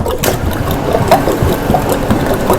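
Machine paddle churning vanilla ice cream, a loud, steady motorized rumble and whir running close and continuous without pause or talk.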